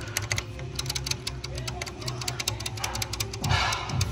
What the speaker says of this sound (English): That's the annoying noise you hear when you first start up your Giulia